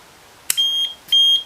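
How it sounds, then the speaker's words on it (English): An RC joystick with an LCD menu emits two short, clear electronic beeps on power-up, close and alone in quiet surroundings. "On power up you get a couple of beeps and then a version number."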